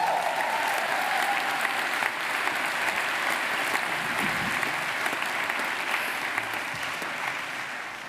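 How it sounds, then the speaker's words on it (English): Sustained applause from a large audience fills a hall at a Central Saint Martins graduation ceremony, a dense even clapping that slowly tapers toward the end. "A huge round of applause."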